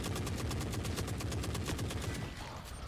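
Rapid, sustained gunfire from snipers in The Forever Winter video game, dense repeated shots at a steady rhythm filling the whole stretch, loud and close.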